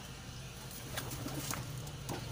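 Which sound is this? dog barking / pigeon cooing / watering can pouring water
pigeon cooing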